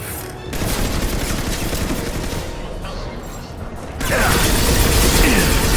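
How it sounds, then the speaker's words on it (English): Heavy gunfire from a Mass Effect 2 Legendary Edition firefight, a dense continuous barrage with mechanical clatter that swells louder for the last couple of seconds. "Taking heavy fire."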